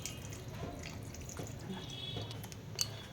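Milk from soaked paneer poured into a cauliflower and potato curry cooking in a pan, a soft continuous liquid splash and trickle, faint and close, with a small plop near the end.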